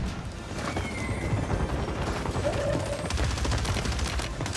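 Gunfire rattles in a Warzone Rebirth Island match, with bursts of rapid automatic shots, some near and some farther off, over busy game ambience.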